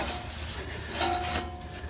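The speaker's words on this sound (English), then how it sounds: "One more wiping down, get any excess oil out of the way." A rag rubs briefly across a John Deere Z930m mower to wipe away excess oil, giving a soft, close scuffing swish with a faint squeak.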